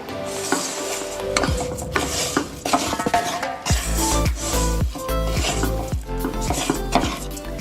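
A spoon clanks and scrapes against a pot as rice is stirred with turmeric, oil and onion. The knocks are close and irregular, with light rattles between them.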